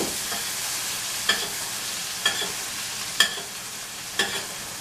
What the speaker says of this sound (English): Just baste the butter on top of your scallop.